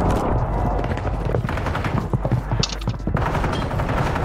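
Dense, loud gunfire from several teams fighting in Call of Duty Warzone Ranked Resurgence, rapid shots clustering into bursts with close impacts, no talking.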